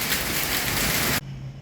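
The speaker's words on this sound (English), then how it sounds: "It's hailing a lot." Heavy rain mixed with hail hammers down during a thunderstorm, a loud dense hiss that cuts off abruptly near the end, leaving a quieter background hum.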